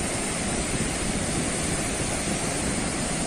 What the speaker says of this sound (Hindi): पोरबंदर की नदियां उफान पर हैं